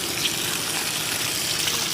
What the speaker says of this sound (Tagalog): Pigilan natin tong tubig na to.